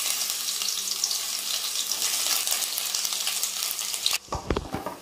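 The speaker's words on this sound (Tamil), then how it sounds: "எண்ணெயில் வந்து நம்ம பூண்டு இஞ்சி போட்டுடலாம்" Garlic and ginger frying in hot oil in a kadai for bread manchurian, giving a steady, dense sizzle that runs for several seconds before dropping off abruptly into a few clattering stirring or handling sounds.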